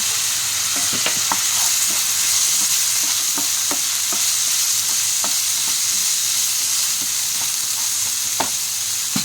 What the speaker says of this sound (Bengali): তো আলুটা এদিকে ভাজা হতে থাক